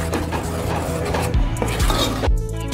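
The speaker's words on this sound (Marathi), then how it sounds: "आपण छानपैकी मिक्स करून घेऊया।" A spoon scrapes and stirs onion and tomato purée for pav bhaji in a pan, making a close, thick, wet rasping with a few sharp metallic clinks against the pan, and no voices.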